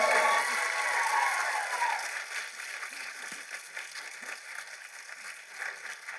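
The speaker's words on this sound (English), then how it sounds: "can y'all just one more time give a round of applause to our amazing panelists today?" An audience at the San Japan 2023 expo convention panel applauds the panelists, a fairly soft wash of clapping that gradually thins and fades over several seconds.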